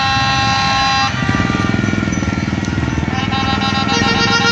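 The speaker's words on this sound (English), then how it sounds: "Yes, those are called tuk-tuks." A tuk-tuk motor tricycle passes close by on a busy street, its loud buzzing engine pulsing steadily beneath honking and traffic noise.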